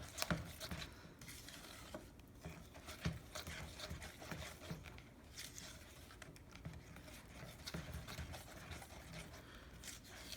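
Homemade play dough being stirred and mixed by hand in a bowl, a steady soft patter and rubbing scrape running continuously at moderate, fairly quiet level with no one talking.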